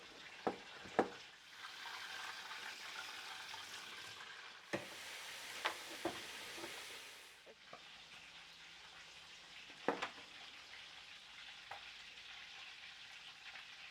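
Crushed liquid garlic, two spoonfuls, is stirred in a cooking pot, giving a steady soft sizzle with scraping and a few sharp knocks of the utensil against the pot, fairly faint, with no talking.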